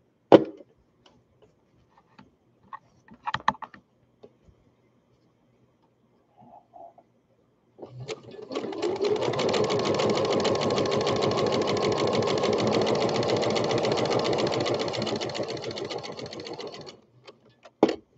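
A domestic sewing machine stitches skirted baby bummies in one steady, continuous run of rapid mechanical whirring that lasts about nine seconds, preceded by a few faint clicks and small handling taps from adjusting the fabric.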